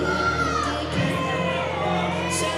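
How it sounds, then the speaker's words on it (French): An audience at a Paris Musclemania bodybuilding show cheers and shouts for a competitor, a continuous loud roar of crowd voices with a few higher whoops rising through it. "On l'applaudit bien fort."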